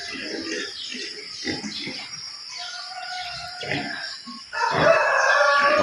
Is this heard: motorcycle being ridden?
no